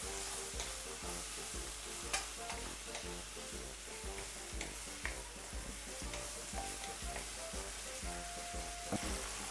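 Salt fish for a Jamaican dish fries in a pan, with a steady quiet sizzle and occasional stirring clinks and scrapes, no voices.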